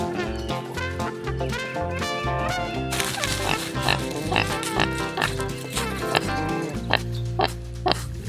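A pet pig kept alongside motorcycles grunts and oinks repeatedly in short bursts, heard over loud music that plays throughout.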